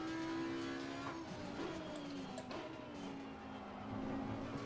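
An Audi R8 GT3 EVO race car laps Kyalami in Assetto Corsa Competizione, its engine droning steadily with shifting pitch as it changes direction, faint tire noise and bumps over a curb, at low volume.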